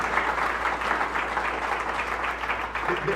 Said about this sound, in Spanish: Si aplaude, gloria a Dios, a Cristo el aplauso.